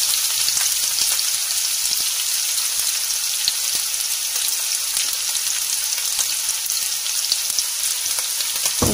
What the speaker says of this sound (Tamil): குட்டி குட்டியாக நறுக்கிற வெங்காயத்தை வந்து உள்ளே சேர்த்துருக்கலாம்